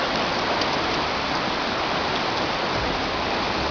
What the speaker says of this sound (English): I don't know how well you can hear the river